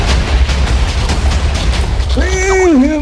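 TNT blows up in Minecraft with a continuous low, rumbling blast that fills most of the stretch, and a voice shouts over it near the end.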